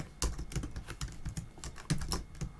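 Typing on a computer keyboard comes as a quick, uneven run of close clicky keystrokes, some louder taps standing out, with no talking.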